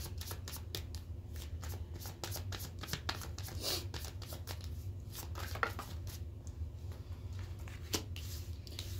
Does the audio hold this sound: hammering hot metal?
no